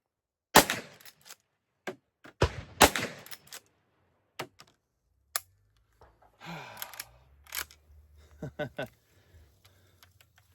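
Cowboy guns, a Ruger Vaquero revolver and a Rossi R92 lever-action in .45 Long Colt and .44 Magnum, fire sharp outdoor gunshots, several spaced shots with short echoes, followed by quieter clicks and handling noises.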